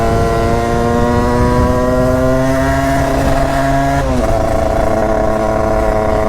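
A 70cc Derbi moped engine fitted with a Metrakit kit revs hard and steadily, its buzzing two-stroke pitch climbing, then dropping sharply as the throttle shifts, loud and close with no voices.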